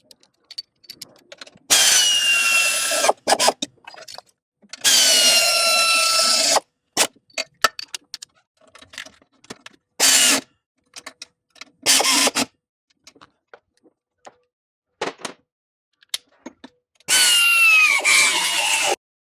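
Engine head bolts being tightened on a Nissan X-Trail with a QR25 engine: loud, close bursts of rapid clicking lasting a second or two each, separated by quiet gaps and small knocks, with no speech.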